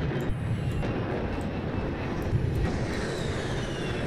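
Airplane engine drone in a video game dogfight, a steady broadband roar with a faint whine that stays loud and even throughout, with no talk over it.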